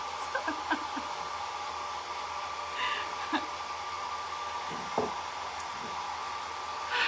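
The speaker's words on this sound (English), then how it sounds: "Just trying to get this dry with my fancy little Conair 1875 blow dryer." A Conair 1875 blow dryer runs in a steady, continuous whoosh while drying a faux stoneware crock lamp, with faint scattered clicks and knocks in the background.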